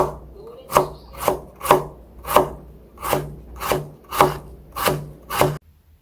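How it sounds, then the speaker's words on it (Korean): A knife julienning vegetables for napa cabbage white kimchi strikes a wooden board nine times in a slow, even rhythm, each chop crisp and close with nothing else audible. "이렇게 해서 이것도 채를 좀 잘 썰어 보도록 하겠습니다."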